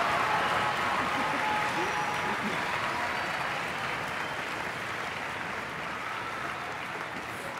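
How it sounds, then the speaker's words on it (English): An audience at a high school music festival concert applauds the orchestra as it gets set, a sustained wash of clapping that slowly fades over several seconds, with faint voices mixed in. "Let's give them a round of applause, because we're so excited."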